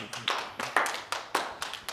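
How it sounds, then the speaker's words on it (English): A few hands clapping for a guest speaker at a small gathering, sparse distinct claps in an uneven rhythm, close and moderately loud, with no talking. "Let's give Caleb a round of applause."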